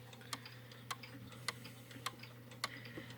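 Steady, quiet ticking of a D&A Schoolhouse Regulator wall clock with a Chinese zero-jewel movement, about two ticks per second, close up over a low background hum.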